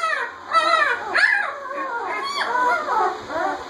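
A litter of seven-day-old German Shepherd puppies whimpering and squeaking, several overlapping high, wavering cries close by in a continuous chorus.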